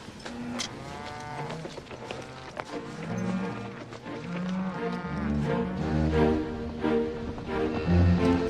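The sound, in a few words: cows mooing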